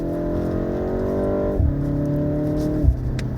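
A 2024 BMW M135 in sport mode pulls hard, its engine note climbing loud and close with two quick gear changes that drop the pitch before it rises again.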